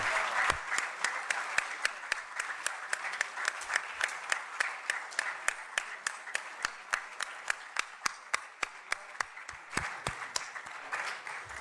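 An audience at the Yaad-e-Salamat 2023 achievement award event applauds Ustad Riaz Ali Khan, steady crowd clapping with several sharp, distinct individual claps standing out close by throughout nearly twelve seconds.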